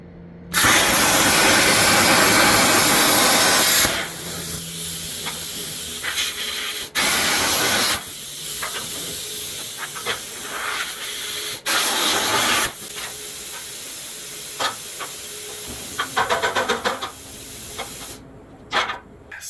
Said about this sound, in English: I'm going to start with the original LS motor mounts, cut them apart